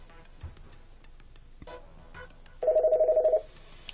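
A small-office desk telephone rings with an incoming call, a single electronic warbling burst of rapid pulses followed by the start of another, close and clear over faint room noise.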